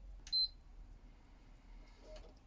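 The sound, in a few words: game console power-on beep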